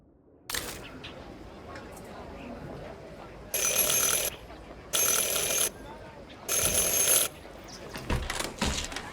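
A door bell in the video game Syberia The World Before rings three times, each ring a bright sustained burst of nearly a second, separated by short gaps over a low ambient background.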